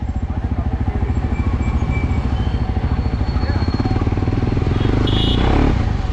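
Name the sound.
KTM 390 Adventure motorcycle with Akrapovic exhaust revving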